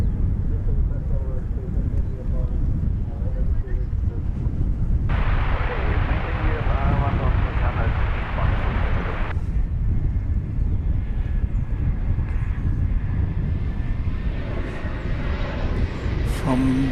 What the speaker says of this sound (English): From Boise in Idaho comes American Flight 1376. It's an Airbus A321.